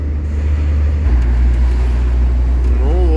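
A car rolls along the road on the way back from the Gorny Altai mountains, heard from inside as a steady, close low rumble of engine and tyres.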